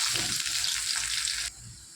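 Cumin, bay leaf, onion, tomato and ginger-garlic paste frying in hot oil, a short burst of steady hissing sizzle that drops quieter near the end, with no voices.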